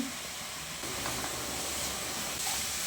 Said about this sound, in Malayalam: മൂന്ന് വലിയ സവാള പൊടിയായി അരിഞ്ഞതും രണ്ട് പച്ചമുളക് ചെറുതായി അരിഞ്ഞതും കൂടെ ചേർത്ത് കൊടുക്കാം സവാള ഒന്ന് വഴറ്റി കൊടുക്കാം